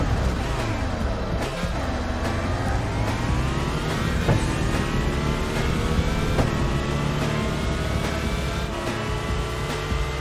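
Cars drive in the Taxi 3 video game with a steady, dense wash of engine drone and revving. Overlapping engine tones rise and fall throughout, and a faint voice sits beneath them.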